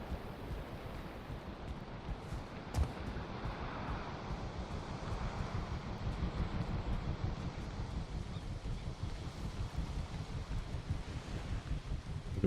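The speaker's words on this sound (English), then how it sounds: "A bit windy." Wind blowing in the Viking survival game Valheim's Mistlands, a steady rushing roar with buffeting gusts and low rumble, continuous and fairly loud with no talk.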